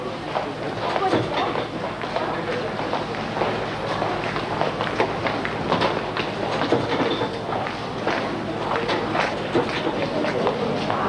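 Tyne and Wear Metro train in Newcastle, running and rattling with clickety-clack rail noise and footsteps nearby; loud, close and continuous, with people's voices mixed in.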